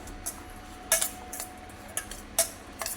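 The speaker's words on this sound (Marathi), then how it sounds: "हे सर्व आता आपण मिक्स करून घेऊया" A spoon clinking against a bowl while onion paratha filling is mixed with spices, cumin powder, coriander and chaat masala, sharp irregular clinks and taps, close and isolated, with no talk.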